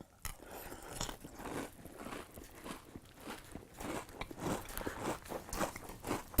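Crunching of Kellogg's Peeps cereal eaten in milk: close, repeated bites and chewing crunches in an irregular rhythm throughout, with no talking.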